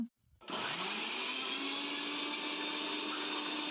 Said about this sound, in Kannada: ಇವಾಗ ಇದನ್ನು ಮಿಕ್ಸಿ ಮಾಡ್ಕೊಳ್ಳೋಣ ಅಂತ